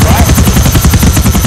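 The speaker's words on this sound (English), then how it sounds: "I'm in a helicopter." A helicopter in the video game GTA 4, a loud, close, steady rotor chop with rapid rhythmic pulsing filling the whole moment, with a voice faintly present.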